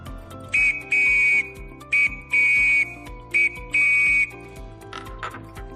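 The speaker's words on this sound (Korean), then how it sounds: "호루라기로 한번 불어보도록 하겠습니다." A whistle is blown as a distress signal during scout camp training, sounding three rounds of a short blast followed by a longer one. The blasts are loud, shrill and close, with brief pauses between them.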